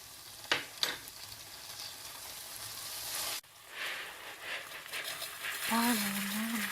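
Minced meat frying in a pan as a spoonful of homemade tomato paste goes in, giving a steady close sizzle with a couple of sharp clinks early on and a voice briefly heard near the end.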